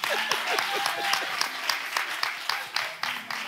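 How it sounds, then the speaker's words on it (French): Studio audience applause on a French talk show, brisk continuous clapping from many hands, fairly close and even, with a voice talking faintly beneath. "Applaudissez pour moi"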